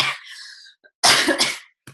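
Two bouts of coughing, close and loud, a short rough cough followed after a pause by a harsher burst, then a faint trailing sound.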